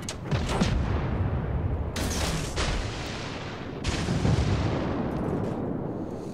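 Heavy naval gunfire from warships in World of Warships, with deep booming salvos landing at about two-second intervals over a dense rumbling battle din, loud and without speech.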